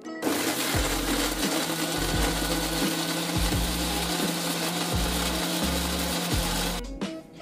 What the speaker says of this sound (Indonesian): sekarang aku mau blender dulu bumbunya